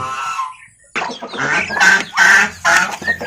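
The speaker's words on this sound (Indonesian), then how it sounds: "Nah ini kan ada ayam kampung yang kecil-kecil ya teman-teman, bisa dilihat" Several close small native village chickens cluck and squawk in short bursts after a brief quiet pause, loud and busy with overlapping calls.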